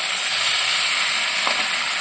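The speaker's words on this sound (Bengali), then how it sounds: "এতে কিন্তু এখন আমি গরম জল দিয়ে দিলাম।" Hot water poured into spiced masala frying in a pan, giving a loud continuous hiss and sizzle that holds steady for the whole moment, no voices.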